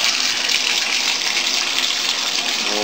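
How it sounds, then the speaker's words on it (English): A bathroom tap runs water into a bathtub with a slow drain, a steady, loud, close gushing rush that continues unbroken. "we'll just run water into the tub"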